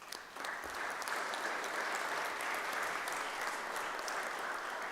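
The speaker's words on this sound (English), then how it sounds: "please give yourselves a round of applause." Steady applause from a large crowd at a St. Patrick's Day celebration in Providence, sustained clapping at an even level throughout with no voices standing out.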